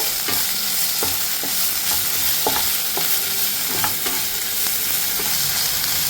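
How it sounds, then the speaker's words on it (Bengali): Ginger garlic paste sizzles loudly in a pan for a Bengali royal prawn curry, while a spatula stirs it with irregular clicks and scrapes against the metal. No one speaks. "দু চামচ মতো আদা রসুন বাটা দিয়ে এটাকে খুব ভালো করে মিশিয়ে নেব"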